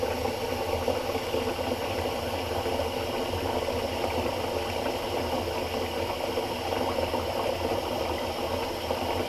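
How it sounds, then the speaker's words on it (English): Water runs steadily from a tap while a bathroom sink is refilled during a wet shave, giving a constant, even rushing hiss that holds level for the whole stretch with no talk. "just refilling the sink"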